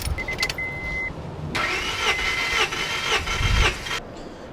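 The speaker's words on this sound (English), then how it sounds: "I'm gonna floor the gas pedal and crank it" A Honda Prelude engine cranks over on the starter with the gas pedal floored during a compression test, a steady rhythmic churning of repeated compression pulses lasting a few seconds up close, then cutting off.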